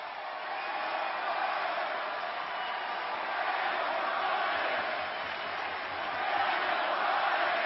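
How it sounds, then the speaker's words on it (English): A festive crowd of nearly 15,000 at a WWE SmackDown Live wrestling event in a Chicago arena roars in a steady, continuous wash of cheering and noise without a break. "A festive crowd here tonight in Chicago."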